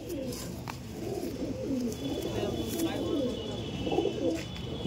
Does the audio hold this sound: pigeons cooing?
yes